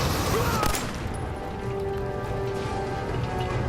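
Sustained gunfire in the post-apocalyptic shooter Fallout 4, a dense continuous crackle of shots with a sharper burst near the start, steady and fairly loud throughout with no voices.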